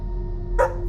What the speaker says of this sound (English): she went back to being just as aggressive as she was when I first walked in, barking and posturing